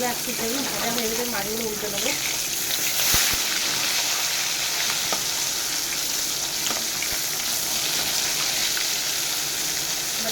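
Katla fish pieces fry in oil, a constant bright sizzle with light spatter and a few utensil taps, while someone talks briefly near the start.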